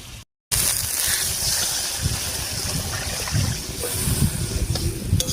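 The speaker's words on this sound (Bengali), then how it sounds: "এবারে ঝোলের জন্য জল দেবো" Water poured into a pan of tengra fish curry with fried ground spices, a short rushing splash and gurgle after a brief gap, followed by a steady simmering bubble with faint clinks.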